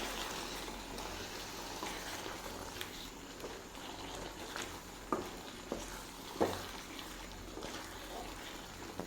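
Ground cashew, coconut and black pepper paste being stirred in a hot pan, with a soft continuous sizzle and occasional scraping clicks of the spoon, faint and steady.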